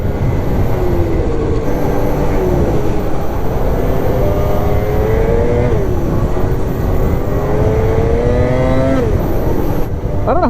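A cold turbocharged engine, left overnight in a trailer, warms up with loud, close revving; the pitch repeatedly climbs and drops over a constant rumble.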